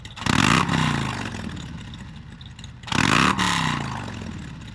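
Motorcycle fitted with a Woods WM8-22XE cam, S&S Grand National pipes and stock head pipe, revved hard twice, each loud blip rising sharply then falling back toward idle, close to the exhaust.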